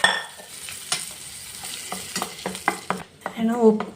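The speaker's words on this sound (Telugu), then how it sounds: "ఎండుమిరపకాయ, కొంచెం కరివేపాకు, ఇవి కూడా మంచిగా వేగనివ్వాలి." Dried red chillies and curry leaves frying in hot oil for a tempering, a soft sizzle under repeated sharp scrapes and taps of a spoon stirring in the pan, ending in a brief louder crackle.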